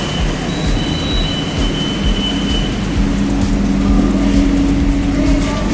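A Jabodebek LRT light rail train runs steadily, its wheels and motor giving a loud continuous rumble heard from inside the car, with faint squealing tones rising and falling along the track.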